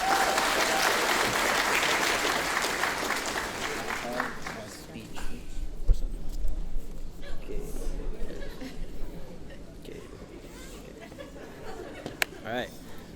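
Applause from a graduation crowd for the class of 2023 valedictorian, strong at first and then fading into scattered clapping, murmured chatter and light laughter.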